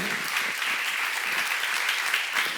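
Applause from a church congregation at a Korean Bible seminar, a thick, even wash of many hands clapping that holds steady throughout, with no voices over it.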